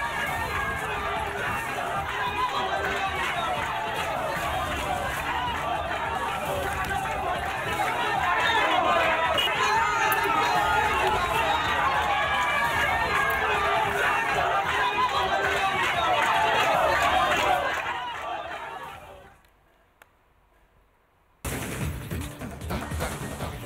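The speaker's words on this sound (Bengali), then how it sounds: "সৃজন ভট্টাচার্য, তাকে ঘিরে রীতিমতো গো ব্যাক স্লোগান দেওয়া হয়েছে" A crowd chants 'go back' slogans at Srijan Bhattacharya during campaigning in Panchasayar, Jadavpur, a dense, loud mass of voices that holds for nearly twenty seconds, then cuts to near silence before noise briefly returns.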